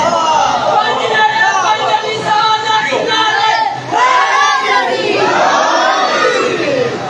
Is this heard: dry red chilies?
no